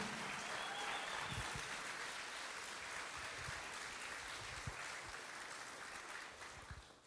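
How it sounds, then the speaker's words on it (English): Audience applause at a town hall meeting in Martinez, honoring the city and its police department: steady, fairly faint clapping from a crowd that holds for about seven seconds and trails off at the end. "Can we give them a round of applause, please?"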